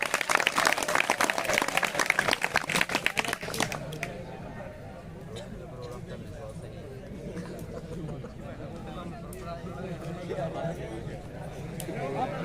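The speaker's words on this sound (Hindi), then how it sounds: "इनके लिए जोरदार तालियां एक बार और।" Loud burst of applause from a crowd at an ITI training camp, dense clapping that fades within a few seconds into background chatter and voices.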